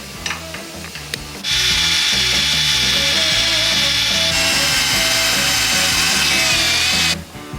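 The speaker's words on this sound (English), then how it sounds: "so we can get a nice good start drilling these holes." A power drill whines loudly and steadily for several seconds after a few short knocks, its pitch wavering slightly before it stops abruptly.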